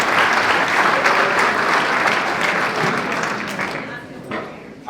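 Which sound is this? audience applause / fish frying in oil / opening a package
audience applause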